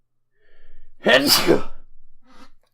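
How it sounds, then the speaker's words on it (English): A single loud sneeze bursts out close by, preceded by a sharp pre-sneeze inhale and followed by a brief breathy sniff. "I think I'm gonna sneeze."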